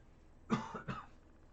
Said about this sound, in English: That's a dry air cough, not a COVID cough.